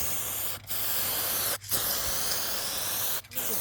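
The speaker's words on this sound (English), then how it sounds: "With the clear coat you want to do slower and wetter coats just to make sure everything touches." A spray gun lays clear coat on a car panel in a backyard, producing a continuous close hiss broken by three brief pauses between passes.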